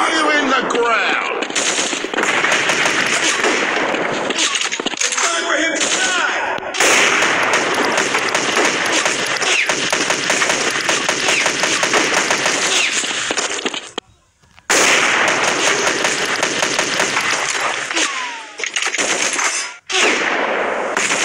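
Gunfire from the video game Free Fire, with loud, dense automatic bursts running almost continuously and broken by only a few brief gaps.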